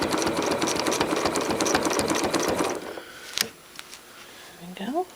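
A sewing machine runs steadily for nearly three seconds, stitching crosshatch quilting lines around an applique flower, then stops; a few clicks and handling noises follow, with a brief voice near the end.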